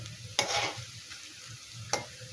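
Cauliflower pakoras made with a lentil batter fry in hot oil with a low continuous bubbling, broken by two sharp bursts of loud sizzle and stirring spaced well apart.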